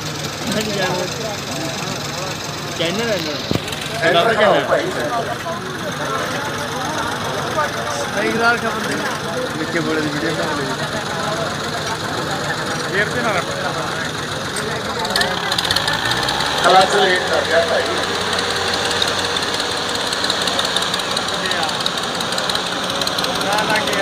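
Tractors strain in a tochan pulling contest, engines droning and knocking steadily with a rising roar partway through, under crowd noise and an announcer talking.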